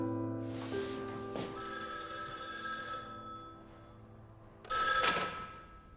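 An old telephone bell rings indoors in a late-1940s Beiping drama scene, a long ringing burst followed by a shorter, louder second ring, with no voices over it.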